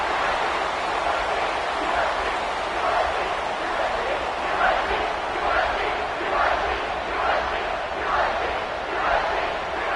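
A football stadium crowd roars steadily after a scoring drive, ahead of a kickoff, with rhythmic swells of cheering rising and falling across the loud, continuous din.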